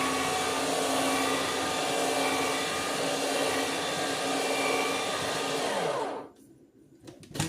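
Electric fruit juicer processing cut-up fruit, a loud steady motor whir with a grinding buzz that runs continuously for about six seconds, then cuts off into quiet handling noises.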